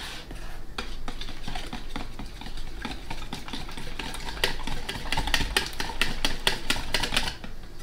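Ingredients are mixed in a bowl for cake or pizza dough, with repeated clicking, scraping strokes of a utensil that grow quicker and louder toward the end, close up with no speech.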